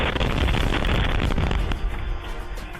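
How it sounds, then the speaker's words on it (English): A powerful explosion at a Palm Springs fertility clinic, heard as a loud, sustained roaring blast of rumbling noise that slowly fades. "new video showing the powerful Palm Springs clinic explosion"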